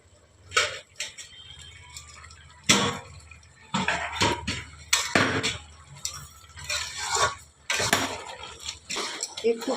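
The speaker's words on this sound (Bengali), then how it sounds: "একটু ঘাটা খুন্তি দিয়ে এরকমভাবে নেড়ে নেড়ে" A spatula stirs mixed vegetable chhyachra in a pan, making intermittent scraping clatters and metallic clinks that come in bursts, close and moderately loud, with a voice talking between them.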